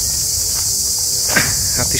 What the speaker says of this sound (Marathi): इतक्या शांततेमुळे हे रातकिड्यांचा आवाज खूपच कर्कश वाटतोय